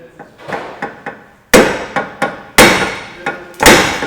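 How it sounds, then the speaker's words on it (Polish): Sharp metal hammer blows ring out in an irregular series while knocking out a car's tie rod end, some light taps and several loud heavy strikes, close by. "młotkiem czy czymkolwiek spróbować wybić"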